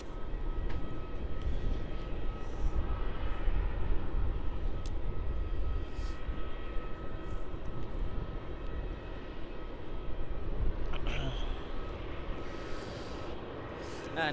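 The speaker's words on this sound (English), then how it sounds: "Looks like that Air India is on final for runway 34. Air India 787-8." An Air India Boeing 787-8, flight 308, on final approach to runway 34 at Melbourne Airport, heard as a steady, distant jet engine roar that holds throughout.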